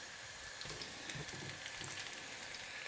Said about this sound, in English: Add the spinach slices.